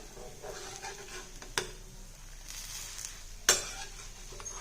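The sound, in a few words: soybean adai dosa frying on pan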